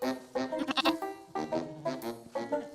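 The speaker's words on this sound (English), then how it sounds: "Round up the sheep then, Jethro" Several cartoon sheep bleat in quick succession, wavering calls overlapping near and loud, with a brief pause before more bleats follow.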